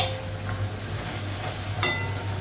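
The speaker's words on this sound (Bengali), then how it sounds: "লুচিগুলো সব ভাজা হয়ে গেছে" Luchi fry in very hot oil, producing a close, steady sizzle with a brief metallic clink near the end.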